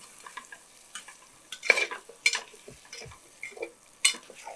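Chicken with salt and coriander powder being stirred in a pan for Arabic biryani, a series of scraping, clattering spatula strokes with a faint sizzle between them, close and fairly quiet.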